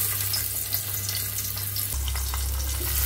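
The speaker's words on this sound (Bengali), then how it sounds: "এখন গরম তেলে দিয়ে দিই" Marinated chicken frying in hot oil gives a loud, dense, close sizzle that stays steady throughout.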